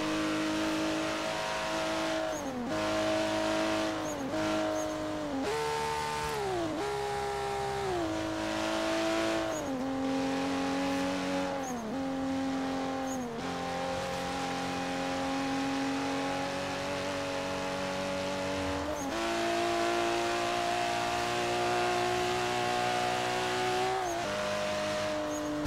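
A car engine in the racing game Forza Horizon 3 revs and shifts continuously, its loud droning pitch stepping up and dropping with each gear change, without talk.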